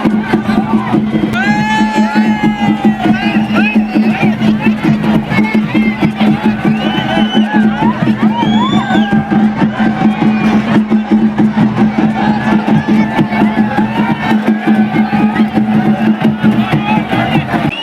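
A large crowd of devotees packed into a village temple fair, a continuous loud roar of many voices with scattered shouts and whoops, and a steady droning tone running underneath.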